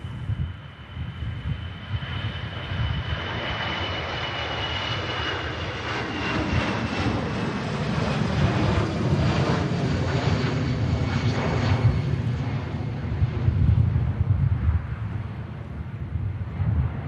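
An EasyJet jet departs Manchester Airport bound for Geneva, its engine roar swelling steadily and staying loud and broad, with some wind buffeting on the microphone and no talking.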